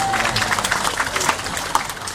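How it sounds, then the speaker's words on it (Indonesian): Crowd applause and cheering fill a stand-up comedy show at Universitas Jember, a dense, steady wash of clapping with a few sharper bursts throughout. "Tepuk tangan dulu."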